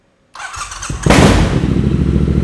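A Triumph Scrambler motorcycle is started up close: a short cranking whir, then the engine catches and settles into a loud, steady idle rumble.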